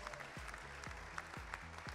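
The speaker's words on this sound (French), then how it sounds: "on applaudit les hérons du lac de Biscarrosse" An audience applauds at an awards evening for winners of a citizens' participatory budget in the Landes, steady dense clapping filling the hall over a low rhythmic background beat.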